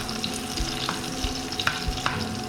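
Ingredients fry in hot oil for clam tinola, a steady close sizzle broken by soft stirring taps and scrapes.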